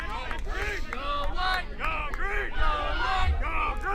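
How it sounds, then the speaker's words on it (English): Cheering from nearby Quidditch matches at a championship tournament with several pitches, a busy crowd roar full of shouts and whoops and voices babbling throughout. "If you are hearing other sounds cheering, clearly we're all excited about Quidditch"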